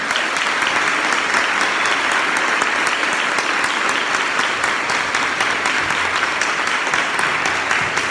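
A church congregation applauds, a sustained, even roar of many people clapping that stays loud and steady for several seconds.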